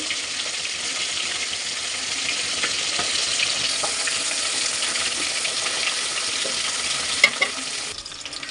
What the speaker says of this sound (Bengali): একটা পাত্রে তেল দিব ঝোল রান্না করার জন্য এর ভিতর দিয়ে দিব পেঁয়াজ কুচি